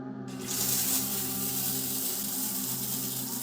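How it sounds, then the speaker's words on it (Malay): A cool shower streams in a bathroom, a steady, close hiss of falling water that begins abruptly and then holds without pause. "Air pancur sejuk menggigit kulitnya"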